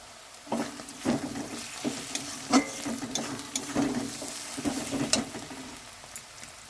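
Turmeric and chili powder sizzle in a frying pan for a spicy chicken curry, a soft crackling fry broken by repeated stirring scrapes at an uneven rhythm.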